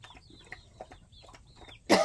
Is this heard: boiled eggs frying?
no